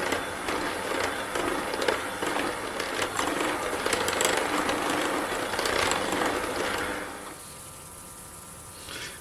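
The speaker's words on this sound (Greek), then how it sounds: "Ανακατεύω σε χαμηλή ταχύτητα να ενσωματωθούν τα υλικά" An electric mixer on low speed churns cake batter for an oil-free coconut syrup cake, giving a busy, rattling mechanical whir that runs steadily, then cuts out near the end, leaving quiet.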